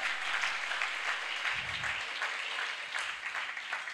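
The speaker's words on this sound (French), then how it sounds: "J'entends un peuple acclamer le Seigneur." A church congregation applauding and cheering during a Pentecost service, a steady wash of clapping that fills the scene at a moderate distance.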